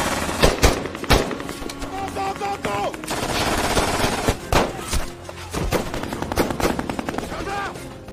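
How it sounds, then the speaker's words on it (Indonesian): Heavy gunfire in a war film, with booming single shots and rapid machine-gun bursts, comes loud and close in an intense, chaotic firefight over dense background noise. "Akhirnya terjadilah baku tembak yang hebat di antara kedua pihak"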